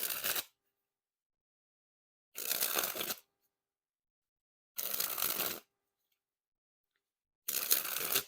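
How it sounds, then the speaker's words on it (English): Orbit Christmas 2022 Edition playing cards sprung from hand to hand in four quick separate bursts of crisp rapid fluttering, each about a second long, with silence between them. "But now that we took a look at the cards, time to test the handling. And first we'll start with the springs."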